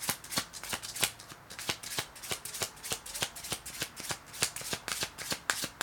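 Playing cards are riffled and dealt in a rapid run of sharp, crisp snaps, one after another with a steady rhythm. They sound close and fairly quiet, and no one talks.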